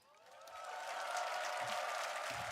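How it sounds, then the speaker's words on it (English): Audience at the Dota 2 TI12 grand finals bursts into applause that swells over the first second, then holds as a steady, dense wash of clapping and crowd noise from a large arena. "giving you a big round of applause there"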